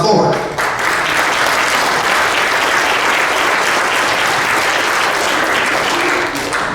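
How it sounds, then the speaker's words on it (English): A church congregation claps together in a steady, dense burst of applause that fills the room at full strength and holds evenly for several seconds. "you ought to clap your hands and thank God for it"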